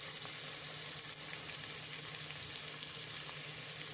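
Tomatoes and carrots frying in a pan for vegetable rava kichadi, a steady hissing sizzle holding even and close with faint occasional pops and no talking.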